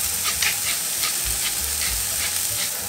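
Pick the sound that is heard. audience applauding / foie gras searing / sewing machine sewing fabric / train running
foie gras searing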